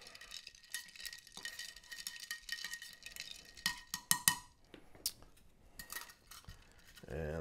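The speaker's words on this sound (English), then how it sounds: "Let's go ahead and just stir that a little bit." Quiet, intermittent clinks and taps of a spoon stirring a cocktail in a glass, close up. A louder clatter and a rustle follow at the end.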